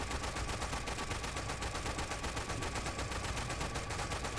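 Dense, continuous rapid gunfire from the Toy Soldiers video game, a steady rattling barrage of shots at fairly even loudness with no speech over it.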